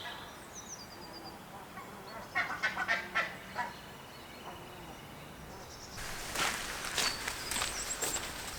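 Geese at a bay honk in a few brief bursts, a cluster near the middle and a louder, busier spell toward the end, over soft outdoor ambience with footsteps.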